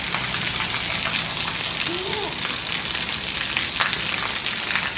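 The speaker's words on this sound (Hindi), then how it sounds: "बारिश तेज़ हो गई और अब सफाई अच्छे से हो जाएगी" Heavy rain pours steadily onto a residential street, a dense hiss filling the whole stretch at constant loudness, with a brief faint voice-like tone partway through.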